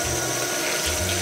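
Cool water runs steadily and loudly from a tap during hair washing, a continuous close hiss and splash with no talking.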